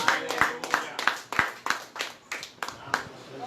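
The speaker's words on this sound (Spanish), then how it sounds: "Dale un aplauso a Cristo." Church congregation clapping in slow, steady unison, about ten sharp claps spaced evenly and fairly close, with a voice speaking faintly underneath.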